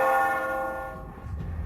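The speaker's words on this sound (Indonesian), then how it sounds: "Itu bunyi lonceng gereja." A church bell rings with one sustained, resonant toll that slowly decays, ringing alone with no voices and a low rumble underneath.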